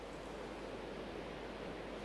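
Steady, dense hiss of falling rain in the FTB Horizon Minecraft modpack, a continuous even wash of noise with no breaks or voices.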